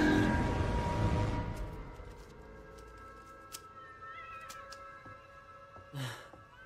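A cat meows faintly in a dubbed scene from the 2019 horror film Child's Play, with short cries set over a quiet, tonal film soundtrack.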